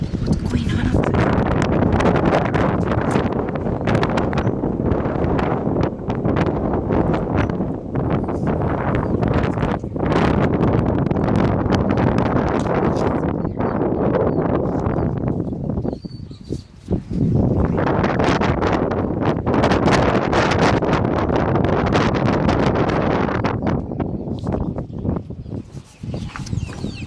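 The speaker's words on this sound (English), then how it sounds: "Oh my gosh. It's so windy." Strong wind roars outdoors at a chicken coop and buffets the microphone in a loud, continuous rush that briefly eases near the end, with some speech underneath.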